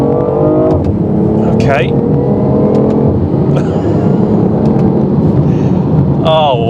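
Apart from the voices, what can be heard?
3-cylinder sports car accelerating in first gear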